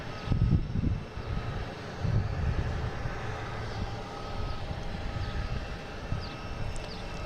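A JetBlue Airbus A220 taking off from Boston Logan, its engines a broad steady rumble heard from a distance, with low pulsing roar and a faint background hiss throughout.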